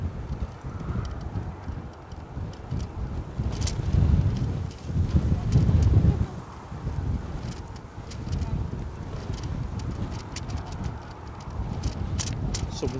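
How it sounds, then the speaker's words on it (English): Wind gusting across the open ground at Edinburgh Airport, a loud broadband rush that swells to a peak mid-way, then settles into a steady buffeting roar with faint intermittent clicks on top. "Someone switched the wind back on."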